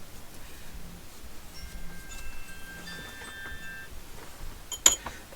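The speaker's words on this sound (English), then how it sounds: "That's my alarm." A faint electronic alarm beeps in steady, thin tones, with a couple of louder clicks and a knock near the end in an otherwise quiet room.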